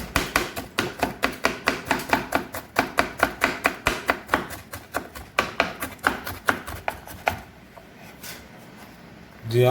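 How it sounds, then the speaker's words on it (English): Knife chopping onion finely on a board in a rapid, steady run of sharp close taps, with a brief pause near the end and then a final louder knock. "The onions are finely chopped."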